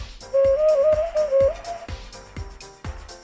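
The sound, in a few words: hand-built whistle with multiple holes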